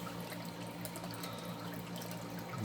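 Creek water runs into a newly built garden pond, a soft, continuous trickling flow heard fairly faintly and steadily, with no one speaking.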